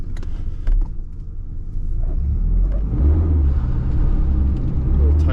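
A pickup truck engine idles with a low rumble, then revs up into a loud, sustained roar as the gas is pressed for a quick pull, heard up close.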